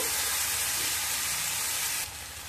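A paste of cumin, ginger and turmeric sautés in a pan, making a loud, dense, hissing sizzle that drops in level near the end.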